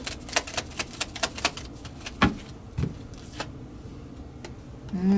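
Tarot cards being shuffled and drawn, giving a run of sharp, quick card snaps and flicks close by, then a few scattered softer slaps and slides of cards laid down, with a brief low rustle at the end.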